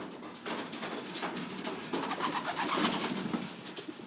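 Young homing pigeons coo continuously in a backyard loft, a soft overlapping chorus of throaty calls up close, without speech.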